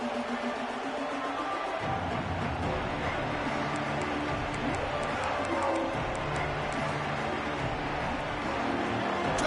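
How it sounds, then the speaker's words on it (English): A home stadium crowd in the College Football 26 video game during a Notre Dame dynasty game, roaring as a constant loud wash of noise that stays level the whole time. "this home crowd is fired up and ready to make a difference today"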